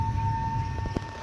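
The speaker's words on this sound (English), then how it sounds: "Yeah, those are tornado sirens." A tornado siren wails outdoors in the Allegheny Mountains, a steady high tone holding continuously at moderate distance over a low rumble of background noise.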